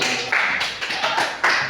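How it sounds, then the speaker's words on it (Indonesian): A classroom group claps for group B: a short, dense burst of applause from many hands that swells in several surges, fairly loud and close. "Tepuk tangan buat kelompok B"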